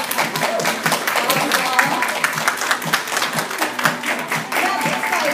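People at a hostess event clap for the team leaders in a continuous, fairly close round of applause with an uneven, pulsing rhythm, and a few voices are mixed in.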